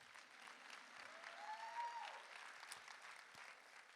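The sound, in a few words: audience applause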